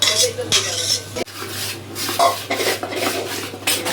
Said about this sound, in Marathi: आता यामध्ये चांगला असा मसाला मिक्स करून घेणार आहे